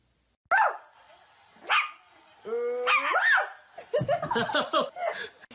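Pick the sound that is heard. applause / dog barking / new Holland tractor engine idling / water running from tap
dog barking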